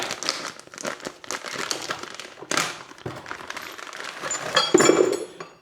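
Plastic packaging for motorcycle handguard mounting hardware being torn open and crinkled by hand, with continuous close rustling and a few small metallic clinks of washers and screws near the end.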